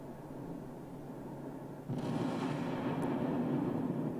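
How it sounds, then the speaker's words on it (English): Fuso-class battleship main guns fire in World of Warships, a sudden heavy boom at about two seconds that spreads into a sustained rumbling roar over the steady background drone of the naval battle. "Shots out at the battleship again."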